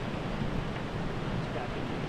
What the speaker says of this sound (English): I hear a waterfall, but I don't see one.